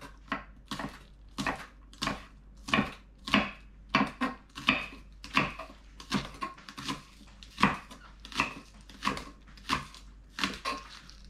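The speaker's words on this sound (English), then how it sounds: "Some green onions, some yellow and red pepper right here, small one just for color, and 1 carrot. So I'm gonna chop all that up." Knife chopping green onions, yellow and red peppers and a carrot on a cutting board, a steady run of crisp, evenly paced chops close up with no talking.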